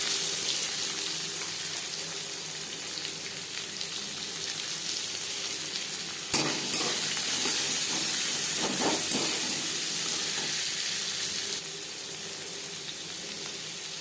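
Chopped onion tipped into a little hot oil with five-spice, raising a sudden loud hiss that settles into steady close frying, with a few stirring scrapes partway through.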